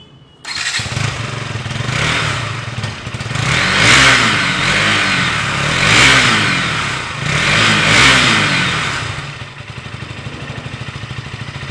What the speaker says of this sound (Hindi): अब आप सभी को एक बार जल्दी से एग्जॉस्ट का साउंड सुना देता हूँ कि एग्जॉस्ट का साउंड कैसा है।